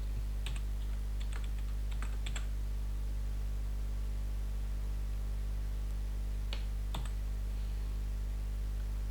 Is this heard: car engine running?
no